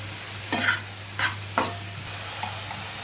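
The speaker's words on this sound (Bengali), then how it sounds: "একদিকে কলমি শাক ভাজি হচ্ছে, আর একদিকে বোয়াল মাছের ডিম ভুনা হচ্ছে।" Boal fish roe and water spinach frying in pans, with three distinct scraping stirs over a steady sizzle and a low hum; the frying hiss continues alone afterward.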